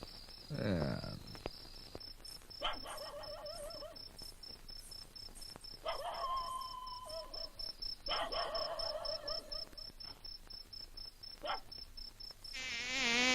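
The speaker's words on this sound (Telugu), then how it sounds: "దోమలు చంపేస్తున్నారా?" Mosquitoes whine and buzz thinly in an indoor room, a faint, intermittent drone that continues while people talk over it in short bursts.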